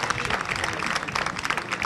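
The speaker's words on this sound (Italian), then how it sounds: "l'applauso del pubblico" A crowd gathered around a cycling gran fondo event claps steadily in a brief, even burst of applause. The sound is moderately loud and fills the moment without a break.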